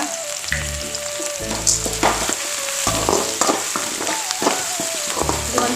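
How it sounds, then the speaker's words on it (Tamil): Onion and garlic fry in a pan with curry leaves, pepper and cumin as the base for a fish curry, a loud steady sizzle broken by repeated scraping stirs and clinks of a spoon against the pan. "வெங்காயமும் பூண்டும் நல்லா வதங்கட்டோங்க"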